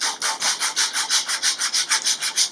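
A strip of sandpaper rubbed by hand over the rounded ends of wooden bed slats, making about a dozen steady, evenly spaced back-and-forth rasps, close and clear with no talk.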